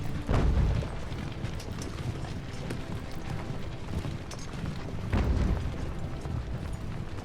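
Artillery guns firing in Ultimate General American Revolution, two heavy booms several seconds apart over a steady battlefield din.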